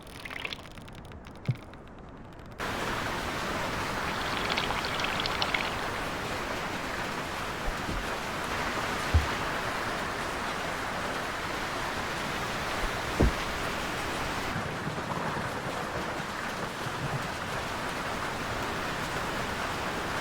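Heavy rain pours steadily during a storm at sea in the sailing game Sailwind, a dense, continuous hiss with a few sharp drops and knocks, loud and unbroken for most of the stretch.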